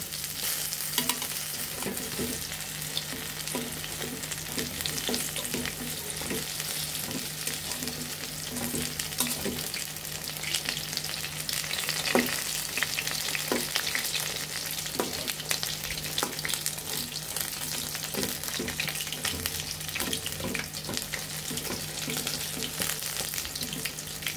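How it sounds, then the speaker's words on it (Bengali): Eggplant flower fritters fry in hot oil with a continuous crackling sizzle, and stirring clicks and scrapes come through now and then. No voices are heard. "আমরা বড়াগুলো দিয়ে দিয়েছি। একটু ভাজা ভাজা হলে পরে আমরা উল্টিয়ে নিব।"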